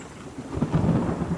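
In a survival-building video game, a low rumble of thunder rolls in under steady rain, swelling midway before holding at a constant level, with no voices.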